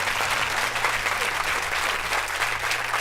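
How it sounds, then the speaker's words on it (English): An audience applauds steadily at a hypnosis stage show, a dense, continuous wash of clapping held at an even level throughout with a faint low hum beneath. "the sound of the audience applauding just helps you drift down deeper"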